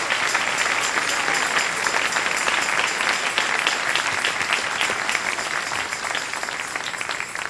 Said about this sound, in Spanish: Dale un aplauso al Rey en esta hermosa noche.